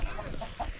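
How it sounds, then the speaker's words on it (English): A few soft clucks from chickens inside a barn come in short, muffled bursts over a low background rumble. "the chickens love it already. They're already in here."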